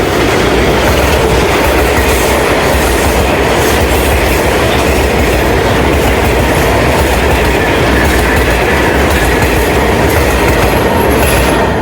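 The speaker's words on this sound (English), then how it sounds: "here comes the one train right now" A New York City subway train on the number 1 line rumbles past loud and close, with steady clickety-clack of wheels and some squealing throughout, no talking.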